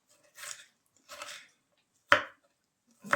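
A knife cuts an onion into pieces on a board: two soft, crunchy slicing strokes followed by a couple of sharp, close thunks, with no voices.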